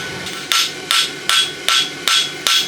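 Hammer blows ring on steel at an anvil while a 1/2 by 3/4 inch roadster horseshoe is forged, six sharp strikes at an even pace of about one every 0.4 seconds, close and loud.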